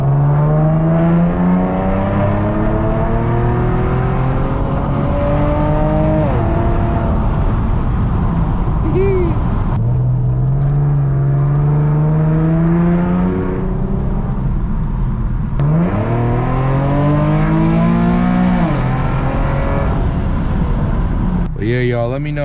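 Infiniti G37X with Vibrant resonators on the exhaust while driving, the engine rising and falling through several revving pulls and shifts, a loud, steady, close drone with pitch sweeps, and a voice talking intermittently over it.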